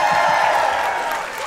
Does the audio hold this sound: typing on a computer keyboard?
no